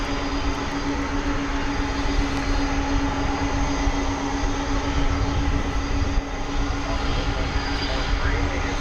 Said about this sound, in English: We'll see a Delta Airbus A319 coming in from Minneapolis,